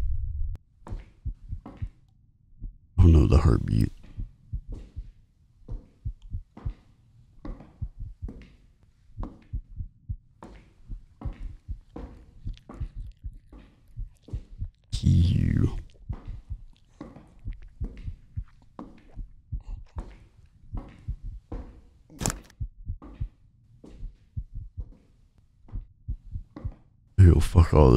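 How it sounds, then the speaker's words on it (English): Heartbeat sound effect in a horror video game, a steady thumping lub-dub pulse repeating throughout, loud and close, with a few brief louder bursts of noise. "Oh no, the heartbeat."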